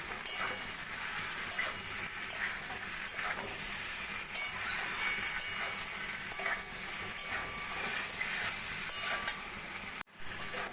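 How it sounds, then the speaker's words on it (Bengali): Continuous sizzling and stirring of pre-fried pointed gourd (potol) with potatoes in a hot pan, a dense steady crackle with occasional scrapes, near and unbroken until a brief dip near the end. "পটলগুলো আলু গরমের সঙ্গে মিশিয়ে আমি কিছুক্ষণ কষিয়ে নেব"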